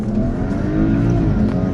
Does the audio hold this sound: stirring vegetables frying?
no